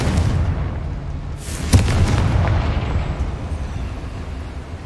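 Confringo fire-blast spell cast in Hogwarts Legacy, a loud booming explosion with a sharp burst near the middle over sustained rumbling game noise.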